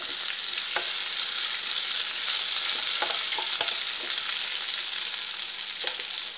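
Cashew masala gravy sautés in a pan with a continuous bright sizzle, punctuated by occasional soft pops and stirring scrapes, steady and close with no voices.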